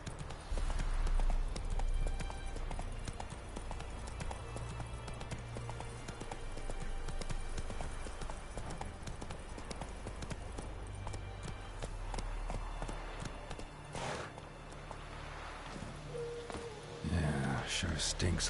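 Horse Roach's hooves clip-clop steadily at a running pace in The Witcher video game, loud and continuous amid ambient game sound, with a voice speaking briefly over it.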